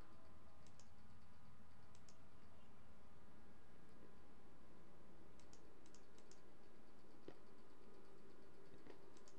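Computer keyboard typing and mouse clicks during PC play of the game The Secret World, with scattered faint clicks and keystrokes in short clusters over a low steady background hum, no talk.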